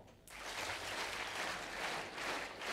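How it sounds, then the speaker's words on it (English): An audience claps together during a yoga and meditation session, a dense, steady burst of many hands starting abruptly and continuing loud and close, with no talking over it. "Why are you clapping?"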